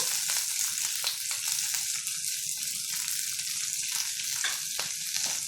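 Cumin, green chilli and chopped onion fry in hot oil in a pan, giving a steady, loud, close sizzle with faint scrapes now and then and no talking.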